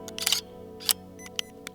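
A camera shutter fires at 1/4000 of a second while shooting bias frames for astrophotography, giving a burst of sharp clicks followed by several more single snaps at irregular intervals over a faint steady hum.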